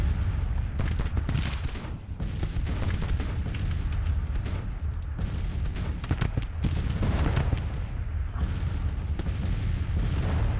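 Civil War artillery batteries fire in Grand Tactician: The Civil War, a dense run of booming shots and crackling volleys that overlap irregularly over a low rumbling battlefield bed.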